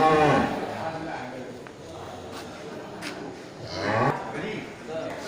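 Cattle at a livestock market, including Simmental, Angus and Limousin breeds, giving a couple of low moos, one at the start and another near the end, amid crowd noise and nearby talking.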